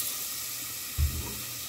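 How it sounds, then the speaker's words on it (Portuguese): Rice being sauteed in a pot with garlic and carrot, producing a soft continuous sizzle with one brief low thump as it is stirred. "Já botei o arroz. Vou dar uma refogada boa aqui nele."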